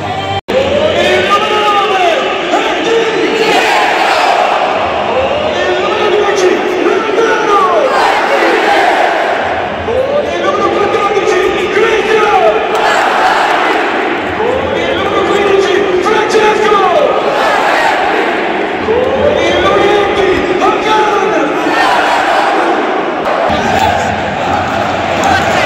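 A large crowd of Roma supporters in the stadium at an Inter vs AS Roma match boos Inzaghi, a former Lazio coach, as a loud, sustained roar that rises and falls in repeated chant-like waves.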